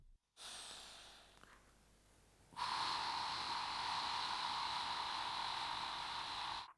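Breathing during a back and hip stretching routine: a short breath, then a long, steady, airy rush of air held for several seconds, close and fairly loud, with no talk.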